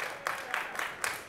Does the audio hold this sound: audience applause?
yes